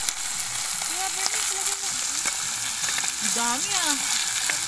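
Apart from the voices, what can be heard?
sautéing boiled fish with garlic and onion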